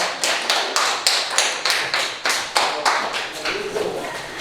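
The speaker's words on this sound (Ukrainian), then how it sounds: "Толмачова Олена, оплески, будь ласка." A rhythmic run of sharp, loud claps, roughly evenly spaced, like a small group clapping in time, at the opening of a new space for children and youth with disabilities in Ukraine.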